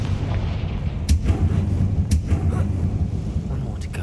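The Confringo fire spell in the video game Hogwarts Legacy sets off sharp booming bursts, two or three spaced about a second apart, over a steady low game rumble.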